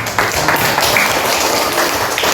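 Pupils in a classroom applaud a classmate during a lesson, a brief burst of clapping that stays fairly loud for a couple of seconds.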